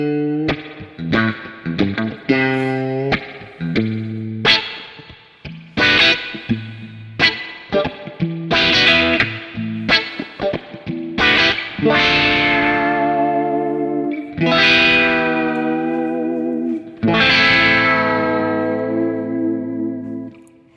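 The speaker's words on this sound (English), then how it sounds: "turning on the spring reverb" An electric guitar played through a Kemper Profiler with spring reverb rings out in chords and single notes, each attack trailing into a springy echoing wash, phrases growing longer and more sustained toward the end, with no talking.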